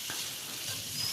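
Onion and potato fry in a pan with turmeric, making a brief, even hiss of sizzling oil close by with no pauses.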